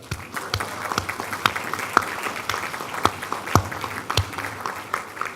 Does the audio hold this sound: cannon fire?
no